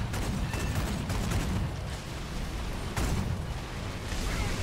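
Dull booming explosions and rumbling battle noise from bombs dropped by biplanes and TB-3 bombers on an M42 Duster in the video game War Thunder, heavy and continuous with a fresh blast near the end.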